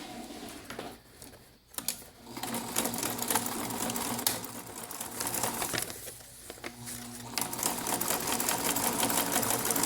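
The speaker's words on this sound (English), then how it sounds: "I'm doing a zigzag stitch." Sewing machine running a zigzag stitch across a paper pocket, a steady mechanical whir and rapid needle clatter that pauses briefly and resumes, close and clear.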